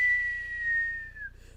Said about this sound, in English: he has a whistle that he does at the beginning of his rhyme